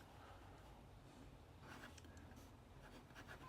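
A pen scratches steadily across paper while writing Gothic calligraphy, a soft continuous scraping with slightly busier strokes toward the end; quiet and close, with no talking.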